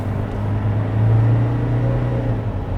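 Dual-cab ute engine pulling hard at full throttle up a hill climb while towing, a steady low droning rumble close by that swells slightly mid-way, alone with no talk.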